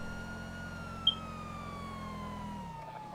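Police car sirens in GTA 5 wail faintly with slowly sliding tones over a low steady hum, distant and continuous, with one brief click near the start.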